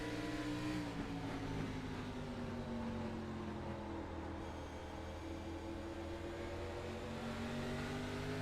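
Race car engine holding a steady high drone with slowly shifting pitch in a Cup Series stock car racing game at North Wilkesboro as the car oversteers. It stays loud and continuous for the whole stretch with no talk.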